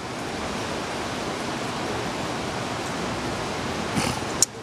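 Heavy ocean waves surge ashore in a constant loud rush of water, with a couple of brief sharper splashes near the end of the short stretch.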